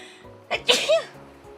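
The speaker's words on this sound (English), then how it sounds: "I sneezed too fast to mute" A single sharp sneeze, close and fairly loud, a quick intake then an explosive burst, with faint room hum around it.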